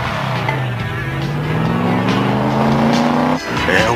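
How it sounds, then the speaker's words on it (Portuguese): A cartoon car drives by with a rising, droning engine tone that holds steady for a few seconds and then cuts off abruptly, loud and close. "É o carro de novo."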